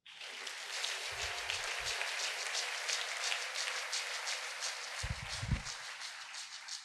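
Congregation applause during a French-language sermon, a dense continuous wash of many hands clapping at a distance, with a few low thumps underneath.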